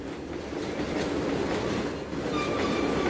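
A train in the video game Trainz 2022 rolls steadily along the track with a rumbling, rhythmic clatter of wheels and faint metallic squeals, continuous and fairly distant.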